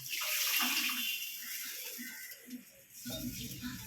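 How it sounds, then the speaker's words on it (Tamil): Water splashes and pours into a pressure cooker for a few seconds, fairly close, while a person speaks over it. "கொஞ்சம் தண்ணி ஊற்றிக்கலாம்."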